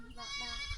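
A goat bleats in a rural village setting, with a wavering, drawn-out cry heard up close over faint background noise.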